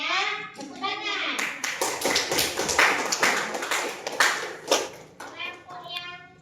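A classroom group of children claps together in bursts of quick, sharp hand claps, close and fairly quiet, with a voice and a teacher speaking around the clapping.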